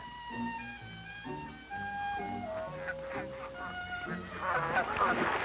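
Egyptian geese honking repeatedly from a moderate distance, a series of nasal calls stepping down in pitch, under a continuous bed of orchestral music with no talking.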